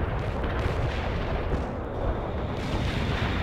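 A rumbling artillery barrage in the video game World in Conflict sounds as dense low continuous booming, a steady roar of distant impacts with no clear gaps.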